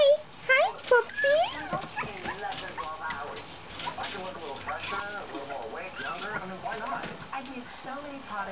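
A puppy whimpers and yips in high, wavering whines close by, followed by a voice talking softly to it.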